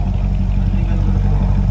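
A Chevrolet Corvette Z06 with the LS7 V8 and a Borla exhaust, valves open, revving loud and close, a steady deep throbbing roar with a dense low rumble that holds for the whole moment.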